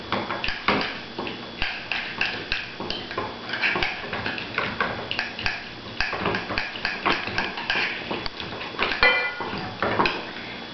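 Real butter being mixed with a utensil in a bowl, a steady run of rapid clinks and scrapes against the dish that keeps going for several seconds at close range.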